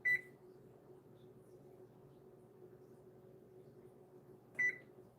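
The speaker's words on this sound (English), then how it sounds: "I need to set my timer." Kitchen timer or microwave-style electronic beep sounds twice, short and bright, about four and a half seconds apart over a faint steady appliance hum, no talking.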